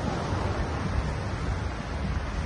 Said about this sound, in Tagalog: Grabe yung alon, lakas